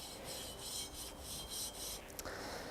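Light rubbing of car wiper arms with a dampened sanding sponge, a soft rhythmic rasp in short strokes, close and fairly faint, with a brief tap near the end.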